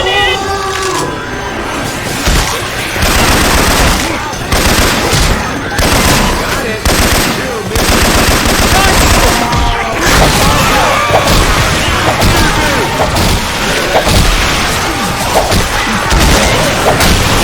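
Rapid, loud video-game gunfire in Left 4 Dead 2 using Syphon Filter weapon sounds, with dense bursts of automatic shots, crashes and impacts running almost nonstop, and occasional voices mixed in.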